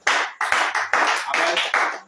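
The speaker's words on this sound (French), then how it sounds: "Acclame le Seigneur Jésus" A group claps hands in praise at a home prayer meeting, giving about seven quick, loud, evenly spaced bursts of applause close by, with no talk.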